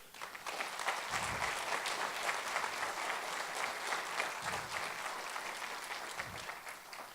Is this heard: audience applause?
yes